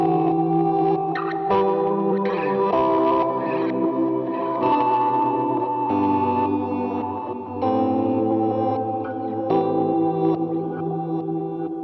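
Guitar played through a warbly tape-saturator modulation preset on a Line6 POD GO Wireless, giving sustained chords a fluttery, wobbling, dark lo-fi tone with echo, loud and continuous with no talking.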